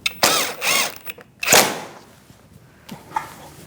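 Bolts being tightened on a 2016-2019 Chevrolet Cruze windshield washer reservoir, giving a few close ratchet clicks in short bursts with pauses between them.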